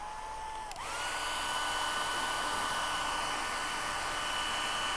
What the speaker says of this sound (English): I can even turn my hairdryer to the side and it'll still float there.